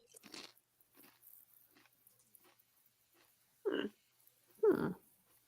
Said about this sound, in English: I hear you chewing again